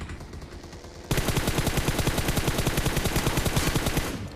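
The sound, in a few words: gunfire in the video game PUBG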